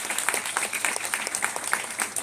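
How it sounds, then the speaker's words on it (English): Applause for first responders at a prayer vigil: a steady patter of many hands clapping, moderately loud and continuous, with no voices over it. "Let's give a round of applause to"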